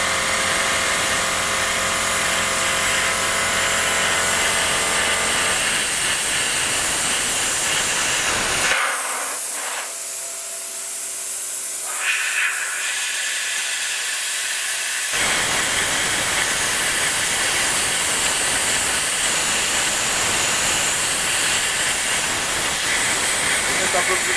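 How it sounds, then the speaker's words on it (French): A 50ST plasma cutter cuts through steel with a loud, continuous roaring hiss. It stops briefly partway through and then resumes at full strength. "je vous ai montré le fonctionnement du découpeur plasma"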